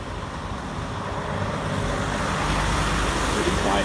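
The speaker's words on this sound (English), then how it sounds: "the truck is just driving by" A truck rolls past at a highway rest stop, a broad steady roar of tires and engine that swells gradually over a few seconds against ongoing road noise.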